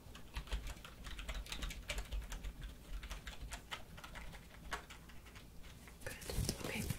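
Quiet, close-up keyboard typing in an ASMR dermatologist exam roleplay, a run of soft, irregular key taps over several seconds with faint whispery sounds mixed in.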